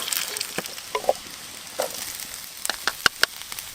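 Pierogies filled with chives, cheese and potato frying over campfire cooking coals at a solo campsite, a soft steady sizzle punctuated by scattered sharp pops and crackles, close and fairly quiet.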